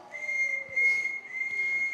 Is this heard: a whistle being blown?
yes